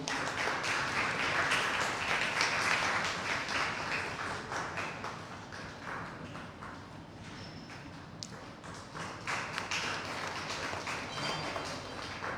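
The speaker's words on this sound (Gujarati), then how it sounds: "આપણે સોનાર સાહેબને તાળીઓથી વધાવીએ" An audience at a literary talk gives a welcoming round of applause to a guest, a soft, steady wash of many hands clapping at a moderate distance, fading slightly toward the end.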